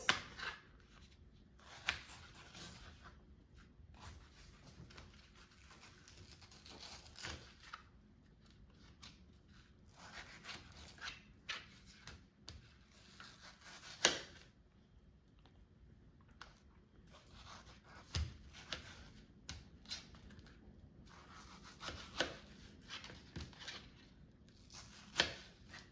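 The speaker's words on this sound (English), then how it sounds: "now let's cut the mango into slices. So there's a mango pit in the middle, so I'll just cut around it into slices" A knife slicing a Philippine carabao mango into pieces around the pit, sparse close cuts and soft scraping strokes separated by quiet pauses, with the odd sharper tap.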